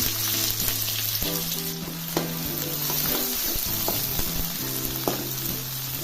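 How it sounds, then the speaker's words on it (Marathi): Onion frying in oil with mustard and cumin seeds for a tender jackfruit dry sabzi, a loud continuous sizzle close up with crackling pops and occasional stirring scrapes, no voices. "आता कांदा चांगला भाजून घ्यायचा आहे"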